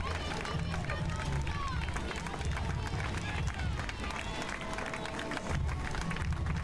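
Hungarian fans at a women's triathlon crowd the course with steady cheering, clapping and crowd noise, a continuous roar with no clear gaps as runners head out of transition.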